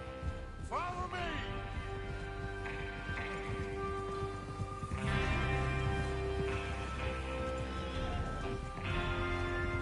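A horse whinnies sharply near the start, then hooves clop along amid rustling, with steady tonal music droning throughout, in the video game Red Dead Redemption 2.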